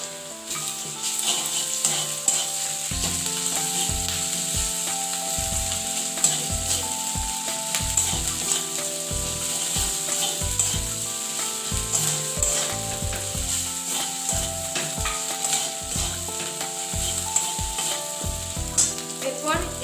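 Ginger garlic paste hits hot oil with fried onions in a pan, a steady loud sizzle broken by repeated scraping and knocking of a spatula stirring, with no voices.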